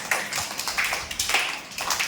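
Children clapping together in a classroom, a quick run of bright, slightly uneven claps in steady rhythm, fairly close and moderately loud.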